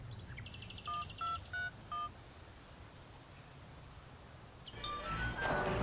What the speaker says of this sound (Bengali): একটু ফোন দিয়ে দেখি তো।